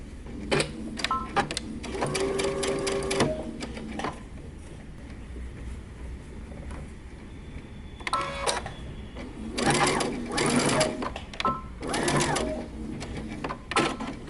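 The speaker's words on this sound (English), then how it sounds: "I'm just going to use a straight stitch to tack it down." A sewing machine runs a straight stitch through T-shirt fabric in several short bursts of rapid mechanical chatter separated by pauses, close and clear.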